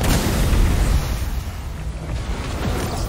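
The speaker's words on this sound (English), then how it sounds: "Oh, it's a guy with a cannon." Cannon fire in the video game Flintlock, a loud booming blast up front that decays into a rumbling tail over a few seconds.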